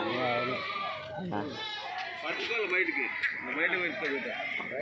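Several goats and kids bleat repeatedly in wavering, nasal cries amid a busy livestock market crowd in Kadiri, with people talking throughout.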